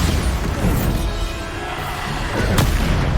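A Bombarda spell blast in Hogwarts Legacy, a loud booming explosion with heavy low rumble throughout and a sharp crack near the end amid continuous combat noise.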